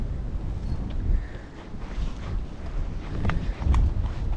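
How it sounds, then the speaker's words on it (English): Strong wind blows across a lakeside canoe campsite, a loud continuous low roar and buffeting against the microphone, with a few faint rustles and knocks underneath. "this wind's so ridiculous"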